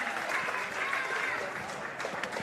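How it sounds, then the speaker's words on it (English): Stadium crowd at a Pararoos v Japan IFCPF Asia Oceania Championships football match roars and applauds after a goal, a dense sustained wash of cheering and clapping. "And the crowd love it."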